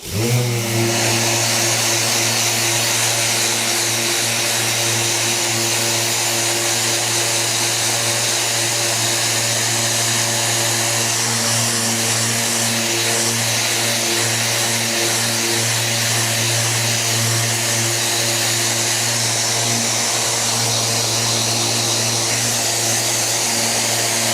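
A power sander with 320-grit paper works over a Land Rover Defender 110 door panel, giving a loud, steady mechanical whir and hum that runs unbroken and close throughout, with no talking.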